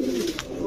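Grizzle and red checker racing pigeons coo in a low, throaty murmur for a brief moment, close by, with a short rustle in the middle.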